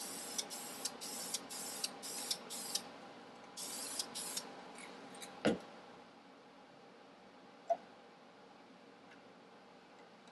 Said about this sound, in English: We're going to paint the Kickstart shaft for this owner.